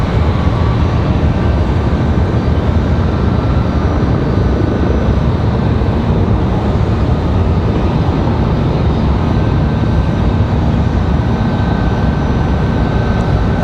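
A Boeing 737 MAX airliner at Raleigh-Durham airport gives off a loud, unbroken jet engine roar that holds steady throughout, with no voices over it.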